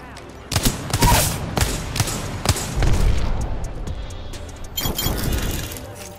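Bursts of video game gunfire crack out in quick clusters, loud and close, with sharp shots and rattling volleys scattered across the passage.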